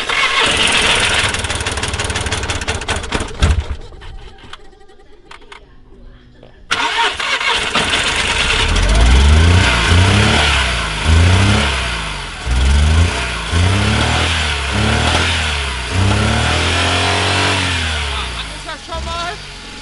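A VW Polo 9N with a camshaft fault cranks and starts after a short silence, then revs hard at full throttle in repeated rising and falling surges, loud and close, with people talking over it.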